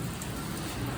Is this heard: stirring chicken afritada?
no